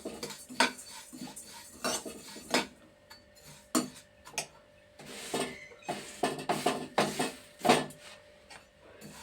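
A spoon stirs and roasts an ingredient in a metal pan over a low flame, giving irregular close clinks and scrapes, some sharp and some soft, with brief pauses between them.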